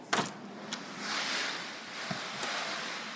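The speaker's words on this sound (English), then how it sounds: "You hear the rain hitting the door." Rain from a hurricane patters against a parked car's door in a soft, steady wash of hiss, broken by a few sharper taps and knocks, with no one speaking.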